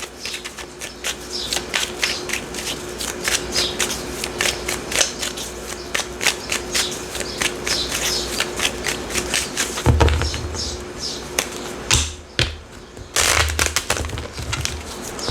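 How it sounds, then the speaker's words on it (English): Tarot cards are riffled and shuffled in rapid, crisp flutters, steady and close, with a few pauses and heavier shuffles near the end. "One more shuffle for Libra."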